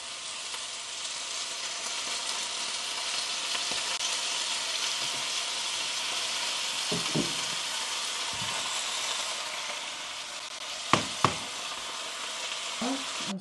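Fish frying in cooking oil in a home kitchen; a steady, soft sizzle runs throughout, with a few faint clinks and taps of utensils near the end and no talking.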